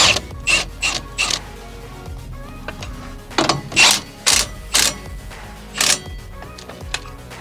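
A wrench ratchets as it tightens a nut on a car's power steering boot, giving several loud, close clicking bursts in an uneven rhythm with short pauses between them.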